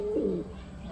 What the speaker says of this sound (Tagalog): Buhay na buhay naman yung sisiw.